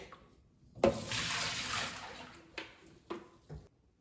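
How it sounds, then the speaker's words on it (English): Water from a countertop reverse osmosis filter flushes into a sink in a sudden gushing burst that tapers off, followed by a few sharp clunks, fairly quiet and with no one talking. "So I'm just going to take this and flush it out into my sink."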